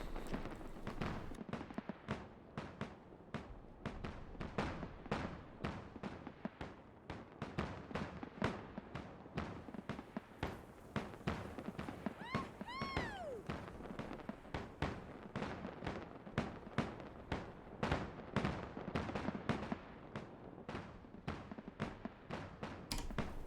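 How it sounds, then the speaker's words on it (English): Fireworks in the game Guild Wars 2 crackle and boom in a dense, continuous barrage of sharp bursts, with a brief whistling rise partway through, loud and steady throughout with no talking. "Brilliant ending, I must say, the fireworks."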